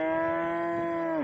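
A cow at a cattle and sheep market in Jizzakh region, Bakhmal district, Uzbekistan, gives one loud, sustained moo nearby that drops in pitch as it ends.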